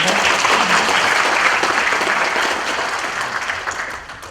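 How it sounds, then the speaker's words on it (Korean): Dense, loud applause from a large audience for a church choir at a commemorative ceremony, a steady wash of many hands that holds for several seconds and then gradually fades. "다시 한번 새 에덴교회 성가대에게 큰 박수 부탁드립니다."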